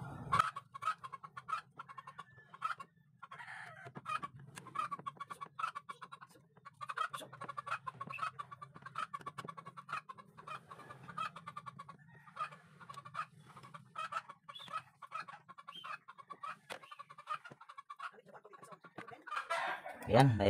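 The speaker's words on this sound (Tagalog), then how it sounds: "Pasensya na kayo sa ingay ng manok" Chickens clucking and cackling repeatedly in a Philippine home workshop setting, a busy stream of short calls throughout, fairly close but low in level, with a louder squawk at the very end.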